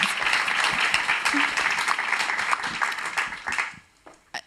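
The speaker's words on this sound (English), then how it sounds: "I think this deserves a particular round of applause." Audience applause at a panel discussion on putting children first, a dense burst of individual claps that thins out and fades near the end, leaving a few last scattered claps.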